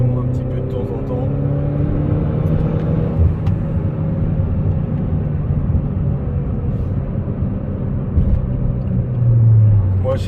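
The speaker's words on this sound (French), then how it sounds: "petite accélération un petit peu de temps en temps" A Peugeot 208 GTi engine drones steadily from inside the cabin on a road trip, with small throttle rises and falls over a constant road rumble and no clear talking.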